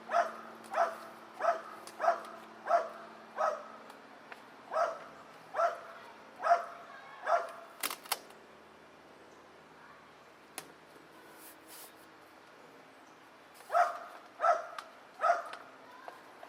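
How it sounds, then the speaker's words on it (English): A dog outdoors barks repeatedly at squirrels, a run of sharp, evenly spaced woofs, then a pause with faint yips before another short burst of barks; moderately near and fairly loud. "you hear my dog, he thinks he's a squirrel dog"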